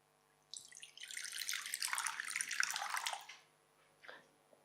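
Water is poured during a baptism, a soft splashing stream that starts abruptly, runs for about three seconds, then gives way to a brief final trickle in a quiet room.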